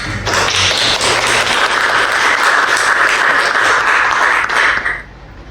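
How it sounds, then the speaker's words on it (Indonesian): An audience applauds a speaker at a government employee orientation seminar in Surakarta, with dense, steady clapping that holds for about five seconds and then stops abruptly. "mari kita berikan aplaus pada Mas Bagus"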